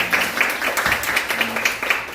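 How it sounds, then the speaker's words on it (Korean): A church congregation claps in welcome, a steady, rhythmic burst of hand claps from a group in a reverberant worship room, with little talking. "우리 박수로 환영하겠습니다"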